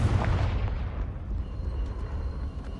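A fire-spell blast from the video game Hogwarts Legacy sounds as one heavy, booming explosion. It opens loudly and then rumbles away over a couple of seconds, with no talking.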